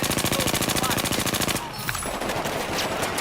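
Rapid automatic gunfire in a video game, a fast steady burst of shots for about a second and a half, followed by scattered game sounds and effects.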